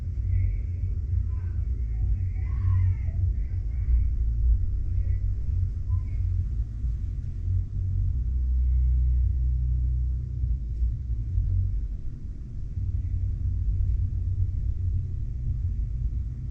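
Muffled show music from the main show lounge, heard through the ceiling of an interior cabin on the cruise ship Carnival Paradise as a heavy, continuous low-end thump and rumble with faint melodic traces above.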